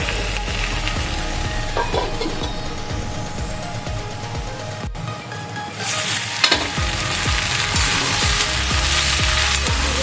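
Small fish frying and being stirred in a pan for a Bengali fish curry, a steady loud sizzle with scraping stir strokes throughout, brightening in the second half.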